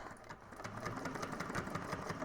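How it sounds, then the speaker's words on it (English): A sewing machine chain stitches pieces of a drop-in lined convertible bag, a steady rapid mechanical whir with even stitch pulses running continuously at close range, no voices. "I'm going to chain stitch them."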